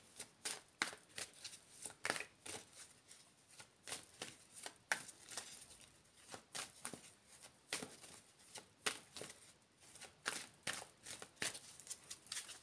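Tarot cards being shuffled by hand, a quiet close run of soft riffling and sliding bursts in an uneven rhythm with no talking.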